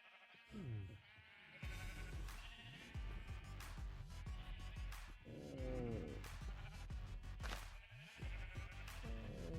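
Repeated sheep bleats, several overlapping, over a busy, constant background of synthetic game sounds; no talking.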